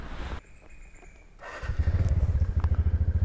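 A TVS Ntorq scooter pulls away at the start of a ride, its engine rising into a loud, close, steady pulsing drone after a few quieter seconds of handling noise.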